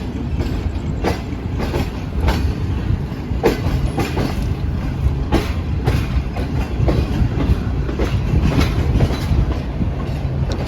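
The 27UP Shalimar Express runs toward Lahore, heard from inside an AC Standard coach as a loud, continuous rumble with regular clickety-clack wheel beats on the rail joints.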